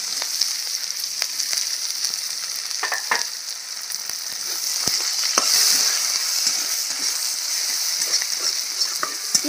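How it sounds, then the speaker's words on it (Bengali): Chopped onion fries in a pan with a continuous close sizzle. Occasional stirring clicks and scrapes come through, and no one speaks. "পেঁয়াজটা একটু লাল করে ভেজে নেব।"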